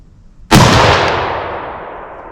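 A single loud rifle gunshot at the range while sighting in for firearm season, a sharp crack followed by a long rolling echo that slowly fades outdoors.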